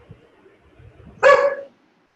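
A dog gives a single loud, close bark-like yelp lasting about half a second, standing out alone after a stretch of near quiet.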